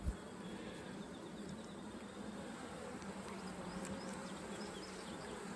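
Carniolan honey bees drone steadily around an opened hive frame of pollen and brood, a dense continuous buzz holding even and fairly close throughout with no talking.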